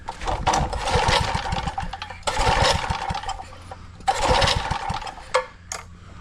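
Small engine fitted with a brand new carburetor sputtering through several short bursts of running, each surge of rough rattling combustion cutting out before the next one starts.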